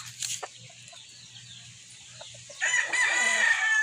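A yellow-legged hatch gamefowl rooster crows from a distance, its call drawn out and faint against quiet surroundings, with a louder, closer burst of noise toward the end.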